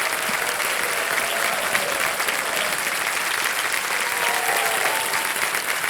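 A television quiz show studio audience breaks into sustained applause for a contestant, a dense, loud, even roar of clapping hands that runs without pause from start to finish, with no talk over it.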